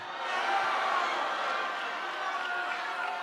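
A crowd at a congressman's town hall reacts in a steady, dense murmur of many voices, loud and continuous throughout without distinct individual words.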